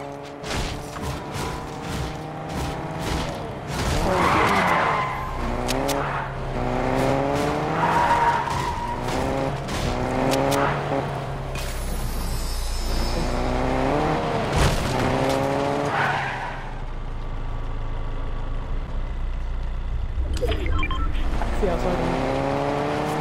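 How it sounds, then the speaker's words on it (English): Cars in Fortnite driving and skidding, with repeated rising engine revs and tire squeals rolling through a loud, continuous mix, and voices talking over parts of it. "the cars are loud. They give off everyone's location"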